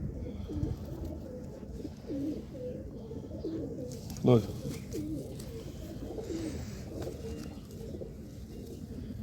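Fancy pigeons kept by a pigeon fancier in Jammu coo softly and steadily close by, with one louder call standing out, while someone talks over them.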